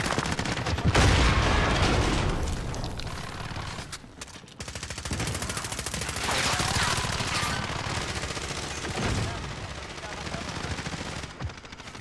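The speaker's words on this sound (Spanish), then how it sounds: "si estoy disparando, se escuchan los disparos." Rapid bursts of gunfire in the game Vacant, loud and sustained, with automatic fire rattling over a dense mix of game effects and some voice in the background.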